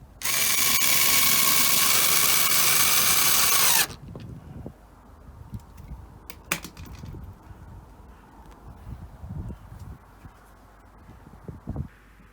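A power drill drives screws into a wooden fence panel and batten outdoors, one loud sustained whir for about four seconds, then quieter handling clatter and small knocks.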